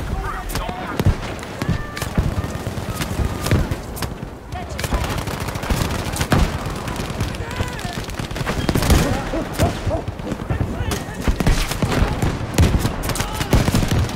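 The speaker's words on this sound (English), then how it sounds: "We need a barrage on these coordinates!" Battlefield 5 breakthrough combat rages with dense gunfire, machine-gun bursts and sharp explosive cracks from an artillery barrage, constant and loud throughout, with shouted voices under the din.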